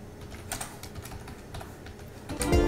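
Keys clatter on a computer keyboard as a tab group name is typed in Microsoft Edge, a steady run of light clicks ending in a louder burst of keystrokes.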